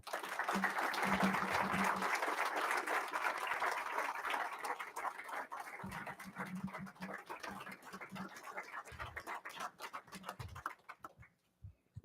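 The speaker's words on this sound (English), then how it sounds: "How about one more round of applause for all of them?" A crowd at a school board meeting gives the students a round of applause, a sustained dense patter of clapping that carries on for about ten seconds before thinning out, with some voices and low murmuring mixed underneath.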